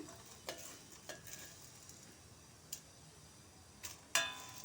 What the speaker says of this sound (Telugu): ధనియాలు కూడా ఎర్రగా వేయించుకోవాలి